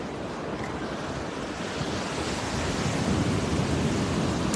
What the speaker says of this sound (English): The sound of the water soothing my soul.